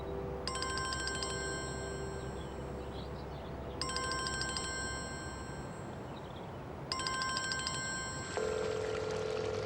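A phone rings in three repeated bursts of trilling electronic tones, fairly faint against a low background hum, with a different tone starting at the end.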